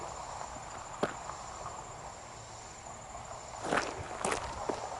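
Scattered hoof thuds and splashy crunches of horses being ridden up a stream, a few isolated near the start and a cluster later, over a steady outdoor bed of insect chirring.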